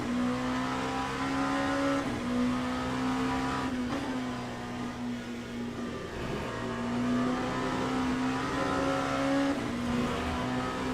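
Race car engine in the Le Mans Ultimate racing game, a steady loud drone with shifting pitch as it revs and slows under braking, continuous throughout with no talk.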